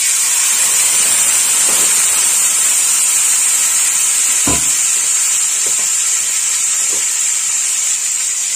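Mustard paste hits hot oil in a Bengali tempering for a puti fish sour dish and gives a loud, steady hiss and sizzle throughout, with a few faint clicks.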